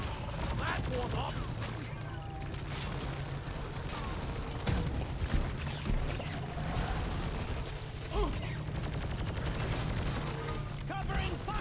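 Deep Rock Galactic combat: continuous gunfire and mechanical clatter run loud and dense throughout, with occasional heavier booms and voices talking over the din.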